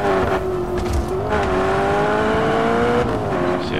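A car engine in the video game Just Cause 3 drones steadily throughout, its pitch climbing slowly as the vehicle accelerates, loud and close over rumbling road noise with no voices.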